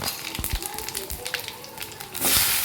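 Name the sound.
spices sizzling in hot oil in a kadai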